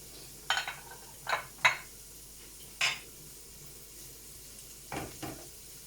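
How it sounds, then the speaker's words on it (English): Onions hitting a pan of hot oil for a fish mukeka, giving short bursts of sizzling and stirring scrapes at an irregular pace over a low background hiss. "And now I'm going to add the onions like that."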